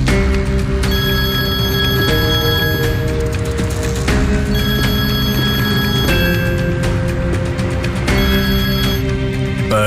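Loud mobile phone ringtone repeats in a steady looping melodic pattern of bright electronic tones, cycling about every two seconds without pause and with no talking.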